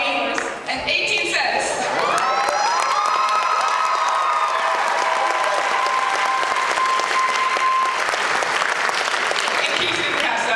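Audience at a school pageant applauds and cheers in a sustained, dense wave, with shouts and whoops rising over steady clapping before it fades near the end.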